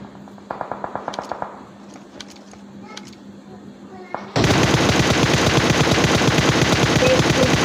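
Gunfire in a battle royale video game during a one-versus-four squad fight: scattered single shots and short bursts, then a sudden loud, sustained rapid automatic barrage that runs to the end.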